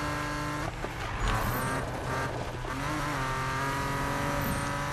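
Racing car engine roaring under nitrous boost in Need for Speed 2015, a loud continuous high-revving drone with shifting pitch and brief tire noise, no talk.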